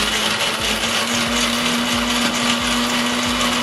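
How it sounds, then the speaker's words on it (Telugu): A mixer grinder runs at full power, blending black grapes with jaggery, cardamom and cool water into juice. The motor whirs loud, close and steady throughout, with no pauses or voices. "నున్నగా మిక్సీ పట్టుకున్నామండి."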